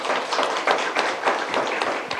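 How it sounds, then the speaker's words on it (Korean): An audience at a joint forum of the Kim Dae-jung Library and the Roh Moo-hyun Foundation gives a steady round of applause welcoming a newly elected lawmaker, dense and even throughout. "박수로 환영해 주십시오."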